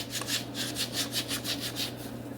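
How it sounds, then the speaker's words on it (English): A Scotch-Brite pad rubs over corroded engine pistons wetted with diesel in rapid back-and-forth strokes, about ten rhythmic gritty scrubs close up. "I'm just going to take my Scotch-Brite and kind of use it and this diesel to kind of rough clean these pistons"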